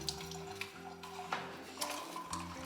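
Spring water runs from a natural spring into a container outdoors, a steady close splashing stream with broadband hiss that holds for the whole stretch, and faint tonal sounds persist underneath.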